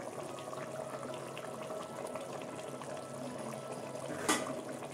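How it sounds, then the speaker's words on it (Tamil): A pot of liquid comes to a gentle boil while cooking a non-vegetarian lunch, with a steady bubbling simmer and a brief clink near the end. "கொதிக்க ஆரம்பிச்சிருச்சு."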